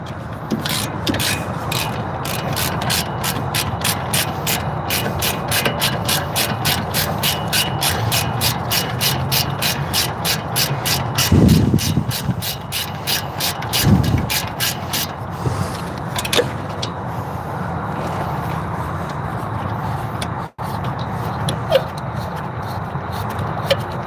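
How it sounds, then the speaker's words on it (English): Ratchet wrench loosening the brake bolts on a car, heard as a long run of rapid, evenly spaced close clicks, then scraping, rubbing and a few thuds as the work goes on, with no talking. "Tight enough where I need a wrench though."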